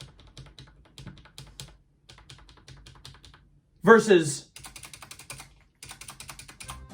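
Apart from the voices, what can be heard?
typing on a Mofii Honey membrane keyboard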